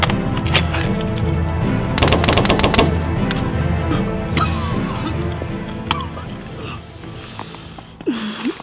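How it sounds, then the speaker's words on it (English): Sustained gunfire in a shootout, rapid bursts of automatic weapon fire layered over continuous combat noise, with a dense volley around the middle and a shout near the end. "Marty, get us some cover fire!"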